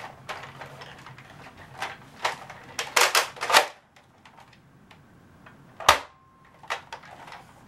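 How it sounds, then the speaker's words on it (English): A toy Nerf blaster fires in a room, a series of sharp, snappy clicks and pops in uneven bursts, including a fast cluster near the middle and a single loud shot later, with quiet gaps between. "I really want to shoot the Nerf gun. I'm gonna shoot it."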